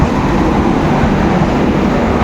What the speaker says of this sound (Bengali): ফাইনালি ট্রেন ঢুকে গেল